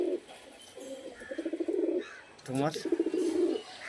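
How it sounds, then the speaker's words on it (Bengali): Pigeons coo in soft repeated rolling phrases close by, several bursts in a row, with a voice briefly speaking between them. "পায়রা ফুল অ্যাক্টিভ অ্যান্ড ফিটফাট আছে"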